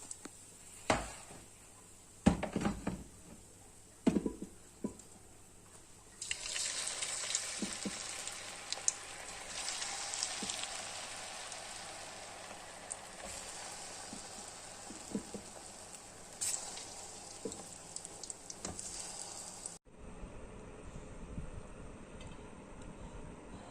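Mutton chops fry in a pan with a steady crackling sizzle that swells louder after a few seconds and holds, broken by scattered pops and clinks, then drops sharply near the end.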